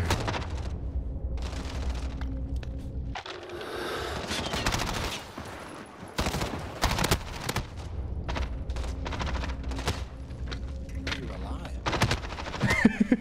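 Rapid gunfire in the battle royale video game Fortnite Rebirth, with a constant barrage of loud bursts and single cracks through the whole stretch and two players talking over it.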